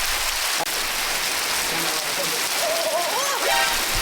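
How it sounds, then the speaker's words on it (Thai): Rain patters steadily across a surface in a constant hiss, with a sharp knock early and a faint whistling tone near the end. "ก็ตรงนี้ฝนตกแล้ว"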